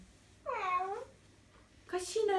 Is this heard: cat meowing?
yes